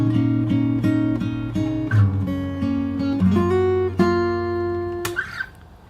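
Fingerstyle guitar picks the first bar of the chorus of a song, a bass note with an evenly plucked higher pattern and a few chord changes, close and moderately soft, no talking.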